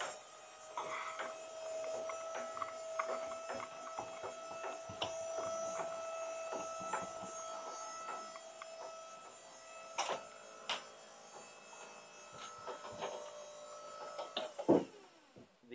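An electric bed lift motor lowering a bed, worked by a momentary wall switch, gives a steady whirring drone that runs for about fifteen seconds with scattered small clicks and creaks, close, with no voices.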